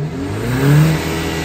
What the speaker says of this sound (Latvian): motors rūc labi